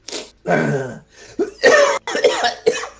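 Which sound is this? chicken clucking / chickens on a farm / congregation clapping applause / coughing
coughing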